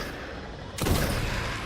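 Gunfire from the video game Destiny: Rise of Iron, heard as a sudden loud burst at the start of sustained firing that keeps rumbling on, dense and close, with no talk.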